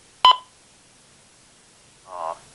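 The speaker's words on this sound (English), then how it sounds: "my thing is beeping now." A phone beeps while on a call: one sharp, loud tone burst near the start, then after a pause of about two seconds a softer, buzzier beep, both alone against near silence.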